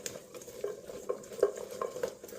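Roasted beets being tossed with lemon juice, a handful of soft wet stirring and clinking sounds close by in a short quiet burst, with no voices.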